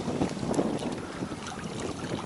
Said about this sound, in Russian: Очень неудобный ветер.